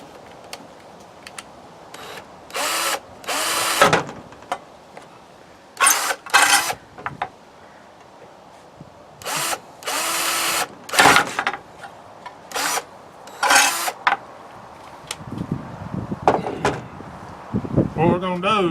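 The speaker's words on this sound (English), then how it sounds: "Alright, we're finna drill 2 holes in this lid." A power drill bores two holes through a jar lid in several short, loud, whirring bursts separated by pauses, with a person talking in between.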